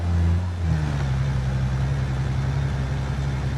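A 2014 Ford Explorer runs through a 4x4 suspension test in the BeamNG.drive driving game, its steady mid-pitched engine hum holding near and continuous, with a low drone and no voices.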